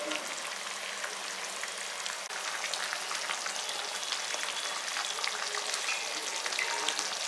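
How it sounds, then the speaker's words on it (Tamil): Eggplant curry (kathirikkai kuzhambu) simmering in a pan, giving a soft, even bubbling hiss that stays steady and fairly faint throughout, with no voices. "ஒரு 10 நிமிஷம் வந்து நல்லா கொதித்து வரட்டும்."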